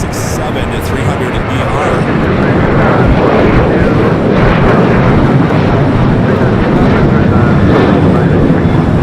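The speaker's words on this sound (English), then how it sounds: "This flight coming in from JFK, flight 713, a 28-year-old 767 to 300" A 28-year-old Boeing 767-300 airliner arriving at Los Angeles from JFK gives a loud, sustained jet roar that swells and holds, with a voice talking over it.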